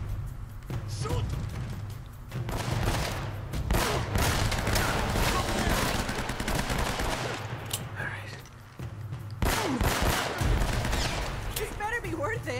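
Gunfire in the video game Uncharted: Drake's Fortune, with rapid bursts of automatic fire and repeated shots in dense volleys, loud and close, over a busy game soundtrack with voices at times.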